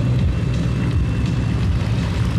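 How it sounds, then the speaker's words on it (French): Propeller aircraft passing over an air show at La Ferté-Alais, a loud, continuous low engine roar holding steady throughout with no talk. "Les avions viennent de passer les 360 degrés"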